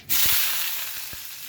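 Whole tempering spices hit hot oil in a wok, bursting into a sudden loud sizzle that stays steady and slowly fades, with a couple of low pops in between.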